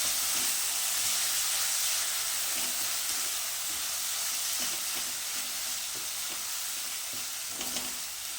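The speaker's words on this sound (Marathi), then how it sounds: "आणि हा मसाला त्या कांद्याबरोबर चांगला भाजून घ्यायचं आहे." Masala and onions roast in a pan with a loud, continuous sizzle, and the spatula stirs and scrapes against the pan every so often.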